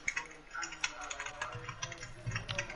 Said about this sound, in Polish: Weź tak nie wal w klawiaturę